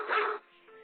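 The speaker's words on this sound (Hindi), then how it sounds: "zenix भौंक रहा है" A dog in a video game gives a short yelp or whimpering bark, loud for a moment and then trailing into a quieter whine, heard alone with no talk.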